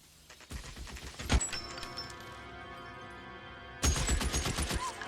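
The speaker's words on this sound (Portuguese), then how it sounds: "Ah, ainda estão a disparar." Gunfire in the L.A. Noire video game during a street shootout: a loud burst of shots near the start, a sharp crack in the middle, then another rapid volley toward the end over steady background game noise.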